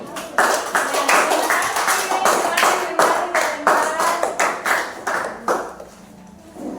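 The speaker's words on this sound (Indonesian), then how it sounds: "kita berikan aplaus untuk kelompok 1" A classroom of students applauds a presenting group, with many hands clapping in a lively, uneven burst that slowly thins and fades near the end, along with some faint chatter.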